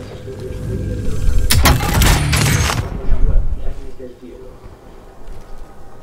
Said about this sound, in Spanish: está disparando atrás